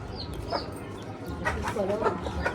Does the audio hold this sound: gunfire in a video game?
no